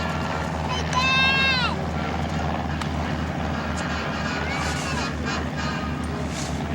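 Low droning engines of small L-16 liaison planes flying past at an airshow, a steady hum under crowd noise with a brief whine early on, while an announcer talks over the sound.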